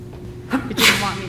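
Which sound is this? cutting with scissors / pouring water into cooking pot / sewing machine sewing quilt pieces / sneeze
sneeze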